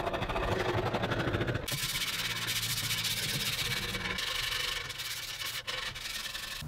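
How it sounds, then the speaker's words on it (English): A hand rasp rounds over the front and back edges of an oak stool seat, making steady rhythmic rubbing strokes that are close and moderately loud. There is no talking over it. "I'll use a rasp and round over the front and back edges"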